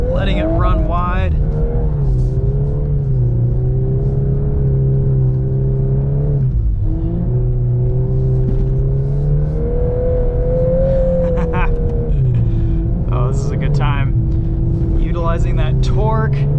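A 2022 Volkswagen Golf R with DSG gearbox drives a snow course around a lake, its engine droning steadily and rising and falling through turns, loud and close for the whole stretch, with a brief dip midway.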